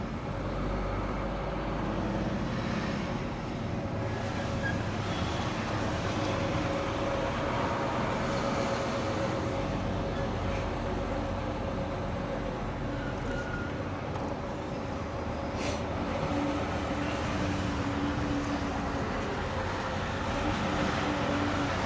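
A steady low rumble of a train in motion in Norway fills the whole stretch, continuous and fairly loud, with no talking.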